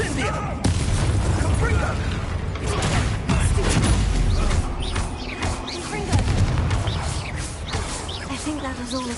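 An Incendio fire spell in the video game Hogwarts Legacy bursts into booming explosions and crackling pops, layered with mechanical clatter and battle noise, loud and continuous.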